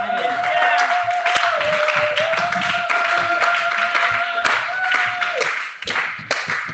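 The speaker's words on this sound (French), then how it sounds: "Si tu crois, applaudis le Seigneur de gloire." Church congregation applauding the Lord during a resurrection sermon, dense continuous clapping from a crowd with a sustained sung or held tone and faint voices underneath, tapering near the end.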